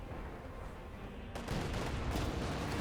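Cannon fire in Company of Heroes 2 booms out as a sudden heavy blast partway through, followed by rumbling impacts and crackling battle noise over a low background din.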